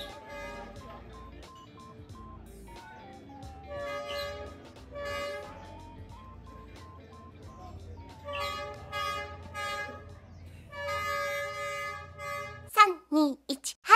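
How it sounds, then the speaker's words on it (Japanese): A train on Hanoi's Train Street draws closer through a narrow street with rumbling and repeated horn toots growing louder, onlookers' voices mixed in, ending in sharp close squeals. "電車の音が聞こえてきました。"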